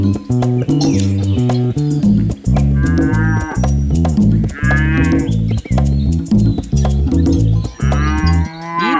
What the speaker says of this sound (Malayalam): അങ്ങനെ അവരൊരു പശുവിനെ വാങ്ങി.